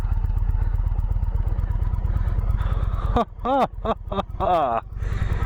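A 2021 Indian Vintage touring motorcycle weighing 860 pounds makes a slow U-turn, its low engine rumble running throughout, with a person speaking over the latter part.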